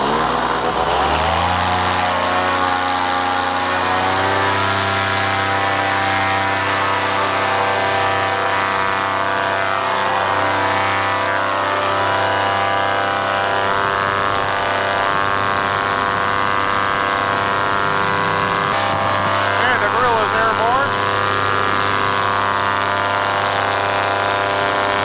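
An ultralight aircraft's propeller engine starts and throttles up, its harmonic drone climbing in pitch over the first few seconds and then holding a loud, steady roar close by, with a brief wavering swell near the end.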